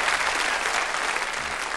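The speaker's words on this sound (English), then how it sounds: "If you give her a nice round of applause" A concert crowd gives a brisk, full round of applause for a woman introduced on stage at a 1987 show, the clapping steady and close with no talk over it.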